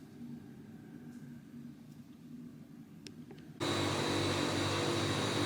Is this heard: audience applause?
no